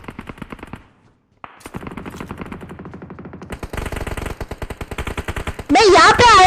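Bursts of automatic gunfire in a mobile battle royale game, loud rapid shots fired from nearby houses, with a pause, then dense sustained firing and a harsh sweeping effect at the end.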